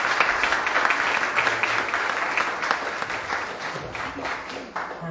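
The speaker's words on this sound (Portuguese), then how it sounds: "Uma salva de palmas para Jesus." Congregation at an evening church service applauds, a dense, fairly loud round of clapping from many hands that holds steady and slowly eases, with voices mixed in beneath.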